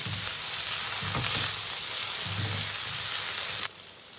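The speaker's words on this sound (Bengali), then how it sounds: "এই যে বেগুনটাকে আমি লবণ হলুদ দিয়ে ভেজে তুলে নেব" Eggplant seasoned with salt and turmeric frying in oil makes a loud, even sizzle with a few stirring bumps, then drops abruptly quieter near the end.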